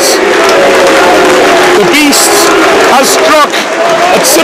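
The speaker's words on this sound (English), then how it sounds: "hear the crowds" A football crowd at Wrexham roars after a goal, a loud, steady wall of cheering under an excited commentator's voice, with a few whistles rising near the end.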